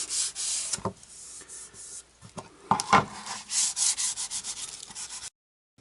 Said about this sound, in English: Sanding with the grain.